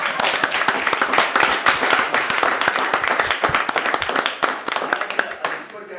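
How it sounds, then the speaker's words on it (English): A county council meeting audience claps for about six seconds, sharp individual claps piling into a dense, fairly loud roomful of applause that thins slightly toward the end, with no talking over it. "you started an applause, let's finish it"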